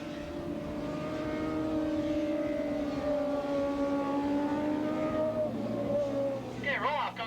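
600cc Super Street racing motorcycles, a Honda among them, drone past at Willow Springs International Raceway, a sustained engine whine with shifting pitch under steady announcer commentary over a loudspeaker.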